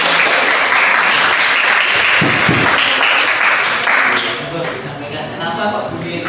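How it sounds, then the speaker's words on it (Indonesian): A classroom of students claps together during an Islamic education lesson, loud dense applause that fades somewhat toward the end. "Beri tepuk tangan dulu."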